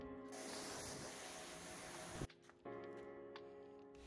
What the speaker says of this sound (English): it's really easy to spray down dirt and spider webs and everything like that with a pressure washer